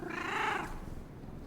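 A cat in the video game Indiana Jones and the Great Circle, on the streets of Rome, gives a brief, close, soft purring and meowing sound.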